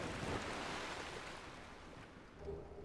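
Water in the video game Dark Souls 2, a soft continuous wash of surf-like noise with gentle swells, quiet and steady with no voices.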